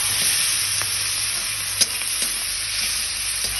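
Chopped onions frying in oil with bay leaf and whole cumin, a steady loud sizzle with occasional light knocks of a spoon against the pan.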